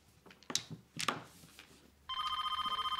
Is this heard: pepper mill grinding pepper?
no